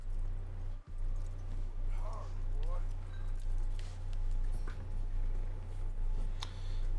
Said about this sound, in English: I'm bonding with my horse,